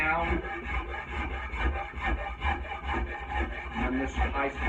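A Shinto rasp files high spots on a vintage-style octagonal wooden axe handle in a close, rhythmic series of rough rasping strokes, roughly two per second.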